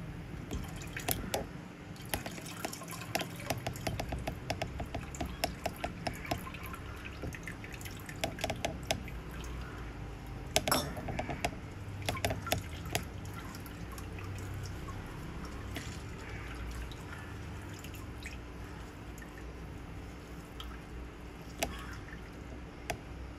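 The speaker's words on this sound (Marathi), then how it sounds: "आता ही कोकम मी पाण्यात भिजत ठेवली होती, मी कुस्करून घेतले, त्याच्यामध्ये मी गाळून घेते" Soaked kokum, squeezed by hand and strained into a bowl for solkadi, releasing a steady patter of liquid drips and small splashes, with a few sharper drops standing out close by.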